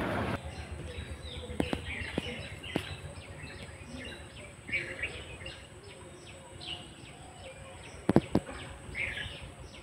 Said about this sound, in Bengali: আমার পাখির ডাকটা খুব ভালো লাগে।